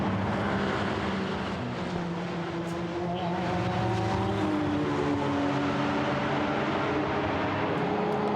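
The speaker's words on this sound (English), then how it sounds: "Does sound good, that Aston Martin, going through Sheen Curve, comes up out of Dingledale through Sheen Curve" Aston Martin GT4 race car at Brands Hatch pulling through Sheen Curve, a loud, sustained engine roar with rising harmonic pitch as it accelerates and holds close by the whole time.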